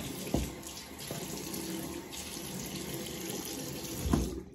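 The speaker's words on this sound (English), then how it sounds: "Switched over to nice cold water. Let it run a little bit." Cold water running steadily from a bathroom tap into a sink during a wet shave, a continuous close rushing splash with a couple of small knocks, no voices.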